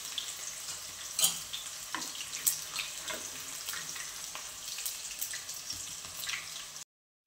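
Peanuts and green chillies sizzling in oil in a pan while making upma, a steady crackling fry with a few louder spits and stirring clinks, then a brief drop to silence near the end.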